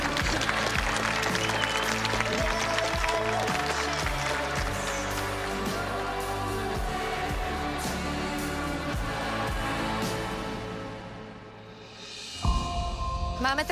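Studio audience at the Love Island CZ&SK 2023 finale applauding a couple, a dense, sustained clapping wash over a music bed. It fades out near the end and gives way to a brief tonal sting.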